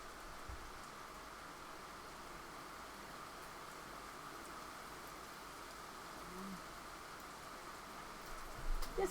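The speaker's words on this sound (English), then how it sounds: "Jag hör inte ens mig själv för det regnar så mycket." Heavy rain pours down in a steady, unbroken hiss that stays even throughout, with a slight swell near the end and no voices.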